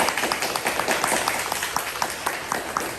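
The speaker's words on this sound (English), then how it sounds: "Let's give Liz a round of applause." Applause from an audience at a New York City internship program event, a close, lively patter of many hands with distinct individual claps standing out, continuous for the full few seconds.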